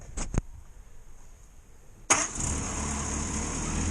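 A 1962 Morris Minor in neutral with a little choke on clicks twice, then at about two seconds bursts into life and settles straight into a steady, loud, close idle that continues to the end.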